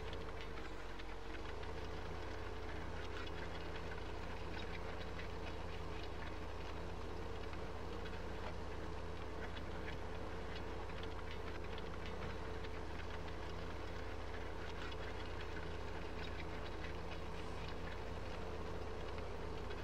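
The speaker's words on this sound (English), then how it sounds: "Oh, slow down, tractor." Steady engine drone of a tractor in Farming Simulator 15, a constant low hum with a mechanical rumble running evenly throughout, loud and continuous with no talking.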